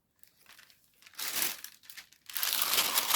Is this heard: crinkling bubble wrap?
yes